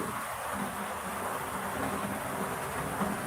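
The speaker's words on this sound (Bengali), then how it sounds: "এখন রাত্রেও প্রচুর বৃষ্টি হইতেছে আওয়াজ পাইতেছেন" Heavy rain pours steadily at night as a dense, even hiss, constant throughout with no voices.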